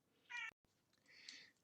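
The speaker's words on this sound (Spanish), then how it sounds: "acaba de llegar el gato" A cat gives two soft meows a moment apart, the second longer and drawn out, faint and close in an otherwise quiet room.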